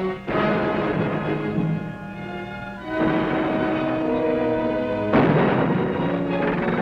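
Heavy covering gunfire and artillery in a WW2 battle at Peleliu, with loud booming blasts at about 0.3, 3 and 5.2 seconds over a continuous rumble of distant fire.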